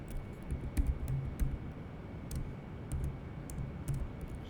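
Someone types Python code on a computer keyboard, producing soft, irregular clicks and short bursts of keystrokes at close range.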